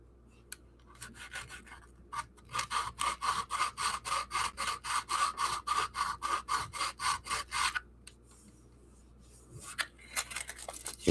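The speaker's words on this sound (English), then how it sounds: "I want to do a light sand and smooth it down slowly." Sandpaper rubs lightly by hand over a putty-filled patch on a model railway layout: about twenty quick, even back-and-forth strokes in a steady rhythm, close and fairly quiet, with a few isolated scrapes before and after.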